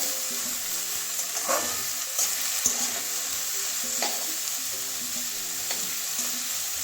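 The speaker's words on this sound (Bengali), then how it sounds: "হলুদটা ভালো করে মিশিয়ে দেবো বেগুনটা একদম নরম হয়ে গেলে" Brinjal pieces frying with turmeric in a pan, a steady close sizzle broken by several scraping stirs of a spatula, with no talking.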